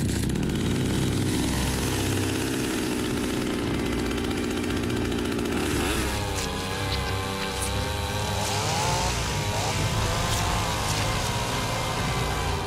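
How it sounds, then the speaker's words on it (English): A chainsaw cuts through Tyrannosaurus muscle and bone, roaring loud and close throughout. It idles evenly at first, then revs and bogs in uneven surges as it bites in, with no talking. "I was not expecting a chainsaw."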